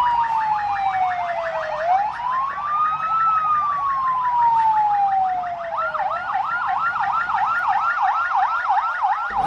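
An ambulance siren wails through city streets in Gaza, with a long falling-and-rising sweep that then turns into a fast, steady yelp. It is loud and close and continues throughout, with no talking.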